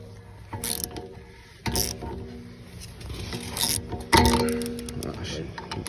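Brake caliper piston being wound back with a tool on a 2015 Toyota Prius: repeated ratcheting clicks and metallic grinding bursts come up close, with a person talking in between.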